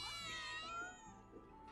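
A cat meows in the video game Final Fantasy VII Remake, one drawn-out, fairly quiet tonal cry that bends down in pitch and trails off against a low steady background hum.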